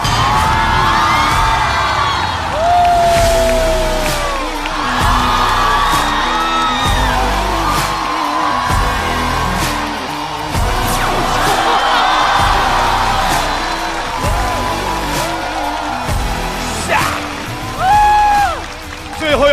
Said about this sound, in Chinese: 掌声欢迎阿修、顾京云、大国手